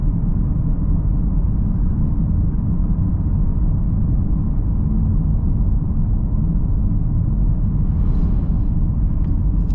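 Steady, loud low rumble of a Mazda CX-30 Takami rolling along a bumpy road, dense road and tyre noise filling the whole stretch with no voices.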